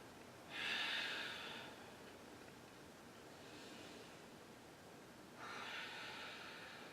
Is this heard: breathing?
yes